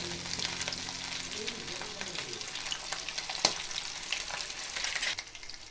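Pomfret coated in green masala fries in coconut oil in a pan, giving a steady, close crackling sizzle with a faint low hum at the start, continuous throughout and without speech.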